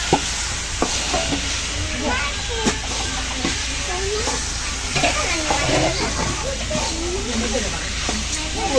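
Fish frying in a pan in a home kitchen, a steady sizzle with scattered stirring clatter and sharp ticks, running under people talking.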